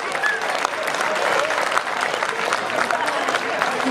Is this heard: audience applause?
yes